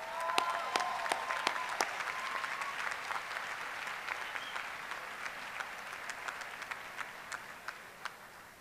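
Sustained audience applause at a 2013 NCC graduation ceremony, dense steady clapping from a large crowd with sharp individual claps standing out, continuing throughout without speech.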